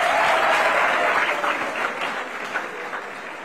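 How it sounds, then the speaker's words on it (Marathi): Audience applause at a Hindu political rally in a packed hall in Karanja, a dense steady clatter of many hands that holds strong and slowly tapers slightly over a few seconds. "उभे राहा, टाळ्या वाजवा यांच्यासाठी"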